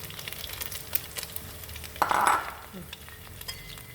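Food bubbles and puffs up in hot frying oil with a quiet, steady sizzle and crackle, swelling into a louder hissing burst midway before settling back down.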